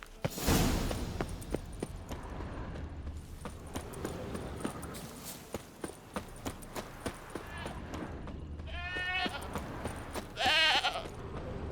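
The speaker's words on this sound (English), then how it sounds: "there is the goat" Goat bleating in The Witcher 3 video game, two wavering bleats near the end over a stretch of rhythmic hoof clip-clop and ambient outdoor game sound.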